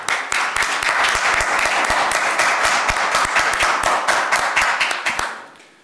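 A crowd applauds with dense, steady clapping that holds strong for several seconds before tapering off at the end.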